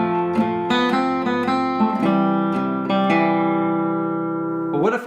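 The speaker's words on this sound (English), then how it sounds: "I'm going to start with Battle Hymn of the Republic" Battle Hymn of the Republic played as a clear, sustained melody with chords, notes striking in a steady rhythm and ringing out, loud and close, no talk.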